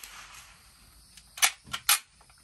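A .22 caliber Wz. 31 single-shot rifle fires at a shooting range, giving a short sharp crack followed by a couple of lighter metallic clicks, against quiet surroundings.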